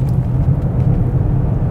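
A Mercedes-Benz E-Class car drives through a corner, a close, loud low engine and road rumble that holds steady for a short moment without speech.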